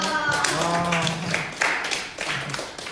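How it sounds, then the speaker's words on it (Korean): Congregation at a Korean church young-adult Sunday service breaking into loud, dense clapping that swells and ebbs for a few seconds, with voices and cheers mixed in. "박수 한번 주세요"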